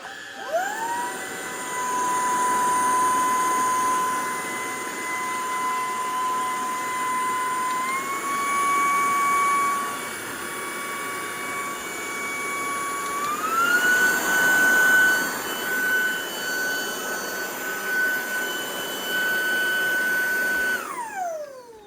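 An Onvo cordless stick vacuum cleaner whines steadily, its motor pitch stepping up twice through its three power settings before spinning down at the end.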